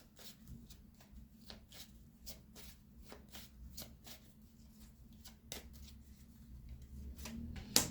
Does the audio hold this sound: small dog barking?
no